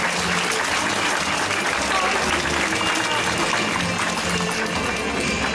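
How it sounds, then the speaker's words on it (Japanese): A large crowd applauds steadily at a victory report gathering for a women's football player, the dense clapping loud, continuous and unbroken throughout. "皆様本日の盛大な拍手をお願いします"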